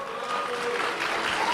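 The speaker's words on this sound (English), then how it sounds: "And you'll notice there's cheers." A crowd reacting to a speaker, a dense wash of cheering and booing mixed with clapping, steady and fairly loud throughout the brief moment with no pause.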